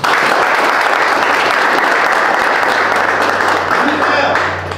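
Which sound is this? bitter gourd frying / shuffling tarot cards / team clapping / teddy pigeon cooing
team clapping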